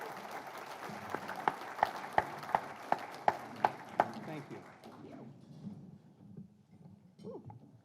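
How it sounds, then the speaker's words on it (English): Applause from a meeting audience for the MC of a chamber of commerce annual membership event, a dense steady clatter of clapping with a few sharp loud claps standing out, fading out after about five seconds into quiet room noise. "How about a nice round of applause for Val Giovignoni of Ting?"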